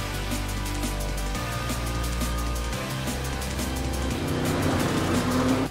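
A 2020 Audi RS7 Sportback cruises gently, with a steady low engine and road hum that shifts pitch in a few steps as it changes gear, heard continuously from inside the car with no talk.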